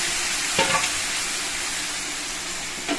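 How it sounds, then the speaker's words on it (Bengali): Spice-coated chicken pieces fry in hot oil in a kadai, giving a loud, steady sizzle with a couple of brief stirring scrapes and no talking. "মশলা মাখানো আমি চিকেনটা দিয়ে দিয়েছি এখন বেশ কিছুক্ষণ ধরে আমি এই চিকেনটাকে কষাবো"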